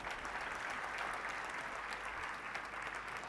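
Steady applause from an audience at a Marathi spiritual discourse during Guru Purnima, a dense even wash of clapping with no individual claps standing out, held for the whole stretch.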